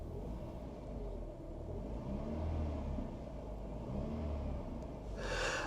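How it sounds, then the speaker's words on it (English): A 1990 Mercedes W124 with over 310,000 km, heard with the sunroof open: a faint, steady low engine rumble that swells gently a couple of times as it is revved, with no talking. "Give it a couple of revs."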